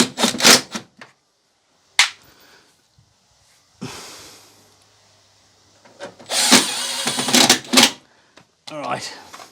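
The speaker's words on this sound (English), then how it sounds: "I'm going to put these screws back in the front" A power drill drives screws into the front panel of an LG front-load washing machine in short loud whirring bursts separated by pauses, close up, with speech heard between them.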